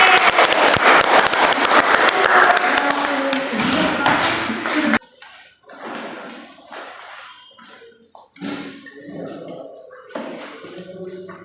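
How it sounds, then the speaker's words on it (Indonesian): Classroom applause for a student group during a microteaching lesson, a dense burst of many hands clapping for about five seconds, then breaking off abruptly into quieter room sounds and talk. "tapi kita tepuk tangan untuk kelompok A dulu ya"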